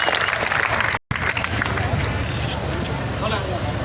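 Loud, sustained applause and clapping from a crowd at a rally of selected electricity board gangmen, with a brief dropout, steady and close throughout.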